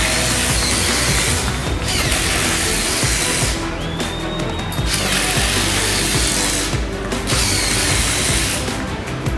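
A power drill drives Ulti-Mate wood screws into a piece of wood during a timed England vs Scotland challenge, with loud sustained whirring bursts that rise and stop several times up close, over a constant noisy background.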